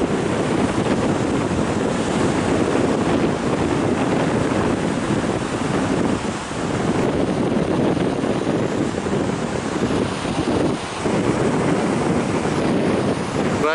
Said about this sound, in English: There you can see the waves dashing against the rock and the spray.